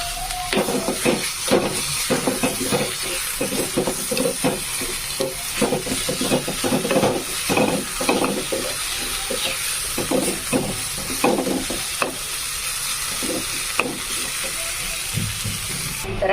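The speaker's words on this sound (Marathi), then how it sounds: "आता याला आपण थोडं कढईत तेल टाकायचे आणि हा ठेचा याच्यामध्ये छान असा परतवून घ्यायचा आहे." Thecha chilli paste frying in oil in a kadhai, a continuous crackling sizzle with repeated scraping stir strokes throughout, close and fairly loud.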